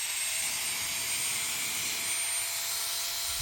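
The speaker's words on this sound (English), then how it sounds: "So this mini air blower has 4 levels of power guys. I'm going to take you through all 4. As you can see, that's the first one there." Mini turbo jet air blower, a handheld dust cleaner, running at its first of four power levels, giving a steady, loud, high-pitched whooshing whine that stays even throughout, heard close with no voices.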